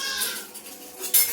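Metal utensils clink and scrape as a skimmer ladle is taken from a pressure cooker of cooked chana dal, a few light clatters close by ending in a sharper bright clank, no talking.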